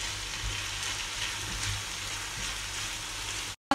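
Chicken and peppers sautéing in a hot pan, a continuous close sizzle with faint stirring, cut off by a brief silence near the end.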